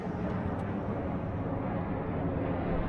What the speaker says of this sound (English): Look at that, B-2 bomber's back.